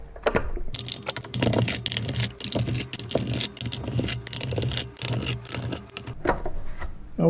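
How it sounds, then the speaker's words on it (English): Small screws being backed out of a robot vacuum cleaner's housing with a screwdriver, giving a fast, steady patter of close clicks and ticks that runs nearly nonstop, with short pauses between screws. "there are a lot of screws, which I will remove now"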